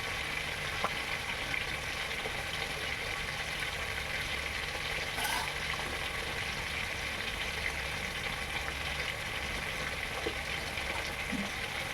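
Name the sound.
fried fish stirred in simmering gravy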